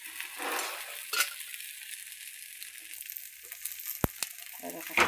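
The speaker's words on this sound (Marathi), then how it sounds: "असं तेल थोडं थोडं कडेने टाकायचं, थोडं थोडं, जास्त नाही बरं का." Oil drizzled bit by bit along the edge of a hot pan, crackling into a sizzle that swells and fades, with a couple of sharp metallic clinks near the end.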